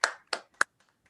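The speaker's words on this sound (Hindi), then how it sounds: "जोरदार ताली से स्वागत कीजिए।" Three loud, separate hand claps close by, spaced about a third of a second apart, then quiet. They greet arriving guests at an evening business and startup event.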